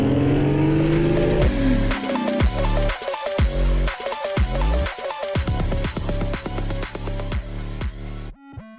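Two Ford Mustang GTs, an S197 and a 2015 S550 with a Coyote V8 making about 435 horsepower, launch side by side in a drag race, engines revving loudly and rising through rapid gear shifts before cutting off abruptly near the end.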